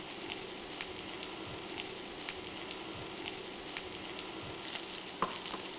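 Onions, garlic and ginger sizzling in a pan, a steady soft crackle of frying with occasional stirring clicks, fairly close and continuous, no voices.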